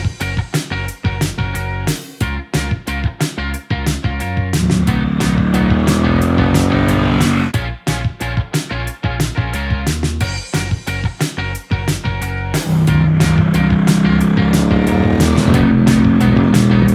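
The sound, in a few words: Triumph Street Cup motorcycle being ridden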